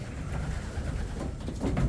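Soft, low pigeon cooing repeats through the clip, murmuring over a steady background hum, with a slightly louder coo near the end.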